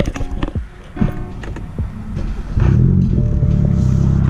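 A modified BMW F30 328i four-cylinder, cold and warming up, fires into a low throaty rumble after some rustling and knocks, then holds a loud steady rev close by.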